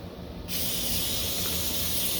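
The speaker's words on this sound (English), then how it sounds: "So I give it a good spray down with this." A foaming cleaner is sprayed onto a firearm to break down carbon buildup. After a brief quiet moment it starts as a sudden close hiss that holds steady to the end.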